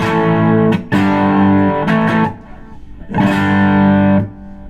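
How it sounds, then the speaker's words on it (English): Electric guitar through an overdrive pedal playing sustained chords in three bursts, with a crunchy, gritty tone that rings out and then drops away between phrases. "if I dig into it, you'll get distortion"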